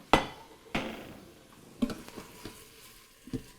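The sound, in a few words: sauteed sausage meat put back into Instant Pot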